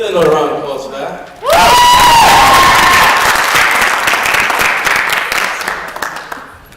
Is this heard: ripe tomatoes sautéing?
no